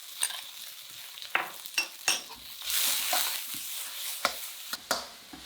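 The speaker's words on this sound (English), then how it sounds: "add in a finely sliced chilli, some minced ginger and minced cloves of garlic and cook it while stirring for about 30 seconds" Sliced chilli, minced ginger and garlic fry in a pan while being stirred, a soft sizzle broken by sharp scrapes and clinks of a utensil against the pan, with no voices.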